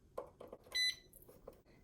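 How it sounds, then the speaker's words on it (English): A Presto digital pressure canner gives a single short, clear electronic beep as it is plugged in, with faint handling noise around it in a quiet room. "So I'm going to plug this in,"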